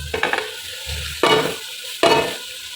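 Meat masala frying in a pot with tomatoes, heard as a low sizzle broken by three loud scraping stirs of a spoon against the pot, each burst rising sharply and fading.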